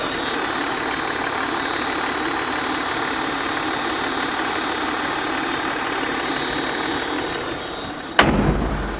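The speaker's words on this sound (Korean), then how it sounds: "지금 본네트 개폐했습니다. 엔진음 들려드릴게요." A Land Rover Discovery 4 idles with its bonnet open, a steady, even engine hum held close for about eight seconds before a sharp knock or thump breaks in near the end.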